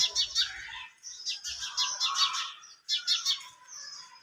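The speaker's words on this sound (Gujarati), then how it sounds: "અહીંયા કાબર જો ચીચી કરસ બે" Myna birds chirp in quick repeated bursts, several calls overlapping nearby, with a few soft low thumps underneath and no talking.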